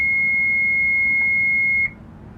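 A steady high electronic alarm tone sounds continuously on the engine panel of a Beneteau Oceanis Clipper 323 yacht, then cuts off abruptly, leaving a low hum behind.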